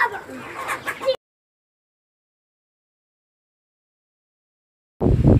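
Broiler chickens cluck together on a farm in Abidjan, a dense burst of fowl noise heard briefly at the start and again after a silent gap.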